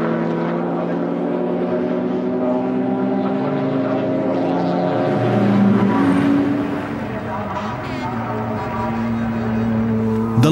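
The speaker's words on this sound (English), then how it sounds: "All the cars let the winner drive across the finish line first." Race cars running the final lap to the finish line of the Nürburgring 24-hour race, a steady roar of engines with sustained droning tones that swell slightly before easing off, heard continuously over the full stretch.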